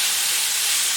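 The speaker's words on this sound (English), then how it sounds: "I'm going to let this simmer for a few minutes." Onions and meat for Salisbury steak simmer in a pan, giving a steady, loud, even hiss with no breaks and no talking.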